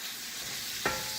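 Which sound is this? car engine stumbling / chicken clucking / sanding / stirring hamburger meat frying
stirring hamburger meat frying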